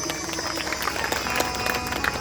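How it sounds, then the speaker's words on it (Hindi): An audience of devotees at a religious storytelling gathering claps together, producing a dense, steady wash of applause that fills the short stretch, with some murmuring beneath. "जोरदार ताली बजाएं।"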